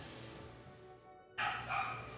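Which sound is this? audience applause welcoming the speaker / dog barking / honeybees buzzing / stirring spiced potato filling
dog barking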